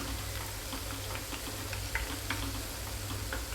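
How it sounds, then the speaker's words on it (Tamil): Tapioca chips fry in hot oil over a medium flame, giving a steady close bubbling sizzle scattered with small crackles and ticks over a low hum. "நம்ம மீடியம் ஃப்ளேமில் வச்சு பொரிக்கிறதுனால ஒரு 5 நிமிஷம் ஆகும்"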